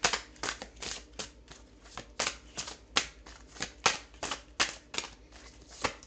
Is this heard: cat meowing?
no